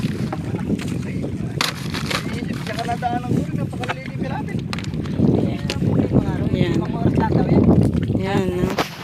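Boarding a small boat on a fish pond, with water and wind noise and knocking from the hull as the craft is boarded and moves off, close and steady, while a person talks over it.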